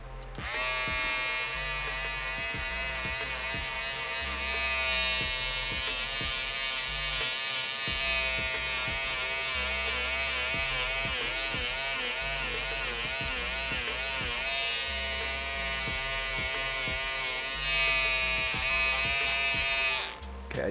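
Electric shaver buzzing while trimming the fur of a puppet in a shop, a loud continuous whirring drone that shifts pitch as it presses and lifts, with brief pauses.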